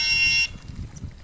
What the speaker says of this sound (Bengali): তোমার হর্নটা চমৎকার একটা হর্ন।